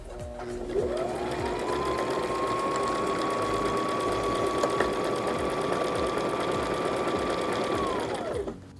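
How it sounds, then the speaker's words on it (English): A sewing machine runs steadily through a buttonhole stitch for about eight seconds, a continuous close mechanical whir with a constant humming tone that starts and stops cleanly. "I'll make a buttonhole and show you."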